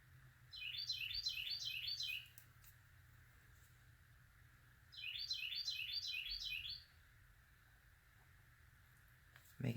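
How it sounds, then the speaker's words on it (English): A loud morning songbird delivers two separate bursts of fast, repeated bright chirps, each about one and a half seconds long and spaced several seconds apart. It is close and distinct over a quiet low hum. "Oh, it's a loud bird this morning."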